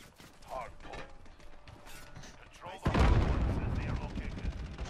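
AK rifle fire in Call of Duty Modern Warfare on the Rust map in Hardpoint mode: a few sharp shots early on, then a dense, loud burst of sustained automatic fire with mechanical clatter.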